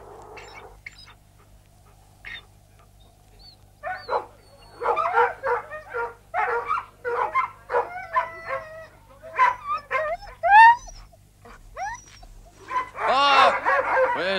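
A dog in the movie The Call of the Wild whimpering, whining and yipping in a rising, restless series of cries with short barks, close and clear over a quiet background.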